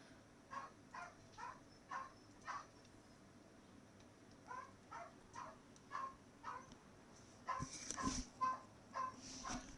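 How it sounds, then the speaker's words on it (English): A very old female dog in the background gives a run of soft, rhythmic yips and whimpering barks at a distance, getting louder and more excited near the end, quiet and without talk. "I apologize for my dog in the background."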